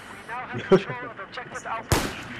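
A single sharp gunshot rings out near the end of a moment of Battlefield 4 gameplay, coming after voices and muffled game sounds.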